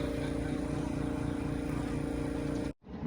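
A steady, loud droning roar of an airplane flying overhead above a farm field in South Korea holds evenly, then cuts off abruptly near the end.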